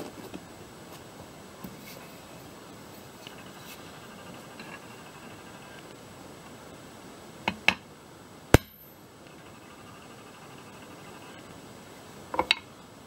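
A hammer strikes a centreboard pivot to drive it out of its bushing on a Hawk20 day boat, a few sharp metallic knocks standing out against a quiet background, one hard blow followed later by a quick pair.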